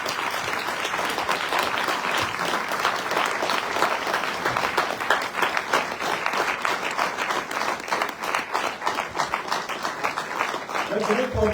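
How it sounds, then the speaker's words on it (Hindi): Audience applause welcomes a woman panelist at a women entrepreneurs panel discussion in the direct selling industry, a dense, steady clapping that fills the room throughout with cheering mixed in. "जोरदार तालियों से स्वागत कीजिए ज्योति मैम"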